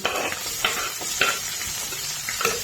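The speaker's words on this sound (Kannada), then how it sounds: "ಸಾಸಿವೆ ಇದು ಮಧ್ಯಮ ಉರಿ ಒಳಗೆ ಚಂದಂಗೆ ತಾಳಿಸ್ಬೇಕು ರೀ. ಉಳ್ಳಾಗಡ್ಡಿ ಮತ್ತು ಮೆಣಸಿನ್ಕಾಯಿ ಎಲ್ಲ ಎಣ್ಣೆ ಒಳಗೆ" Chopped onions, green chilies and mustard seeds frying in oil over medium heat with curry leaves and coriander, a loud continuous sizzle with regular scraping stirs of a spoon in the pan, no talking.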